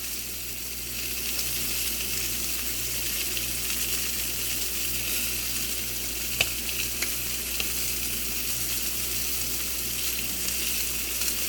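Chicken breast sears in a cast iron pan with a steady, close, hissing sizzle that holds evenly throughout, broken by a faint tick or two and no talking.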